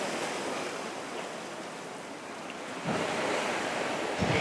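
Ocean waves break and wash onto a beach in San Juan, Puerto Rico, a steady broadband surf roar with wind, swelling louder toward the end as new waves roll in.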